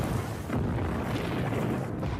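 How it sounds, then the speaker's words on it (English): A volcanic eruption explosion rumbles as a dense, sustained low roar of blasting noise, loud and unbroken for about two seconds, with no voices. "And suddenly, this thing exploded."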